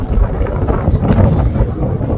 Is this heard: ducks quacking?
no